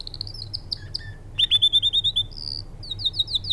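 A canary chirps and trills in clear, bright bursts, including a fast run of repeated notes in the middle, close and alone over a faint low hum.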